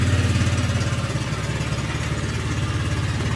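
Honda Click scooter engine running with its CVT clutch lining, clutch assembly and pulley removed, a loud, close, pulsing idle chug that holds steady throughout.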